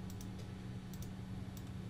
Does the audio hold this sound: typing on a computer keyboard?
yes